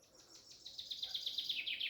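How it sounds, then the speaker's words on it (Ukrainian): Birdsong in a summer forest during mushroom picking: a bird repeats a quick series of bright, descending chirps that grow louder toward the end, over faint insect-like background hiss, with no talk. "Фух, підспів пташок."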